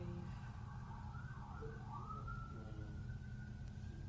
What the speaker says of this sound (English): the sirens are going, the cruisers are tooting their horn